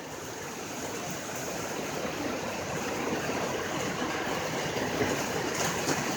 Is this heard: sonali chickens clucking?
no